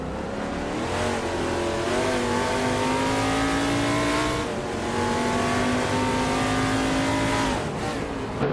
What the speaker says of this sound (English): The NASCAR 1970 cars are holding a tight battle on this street circuit, with the track favoring aggressive driving and close overtakes.